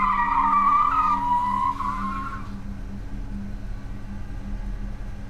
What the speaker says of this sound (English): I slammed on the brakes and braced for impact.